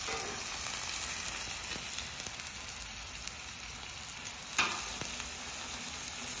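Steak sizzling on a flat top grill, a soft, steady crackle and hiss with faint scraping as the meat is flipped, fairly quiet and close, no talking.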